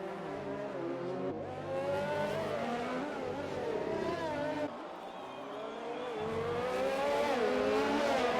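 Formula-style race cars in the GP2 racing game whine at high revs. Engine notes climb and shift through gears, with two cars running close together, steady and loud. Commentary talks over the engines.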